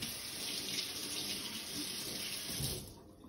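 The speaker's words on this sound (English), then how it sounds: "I'm gonna give it a little rinse." Steady rush of running tap water splashing into a sink as a make-up brush is rinsed beneath it, continuous and close, cutting off abruptly near the end.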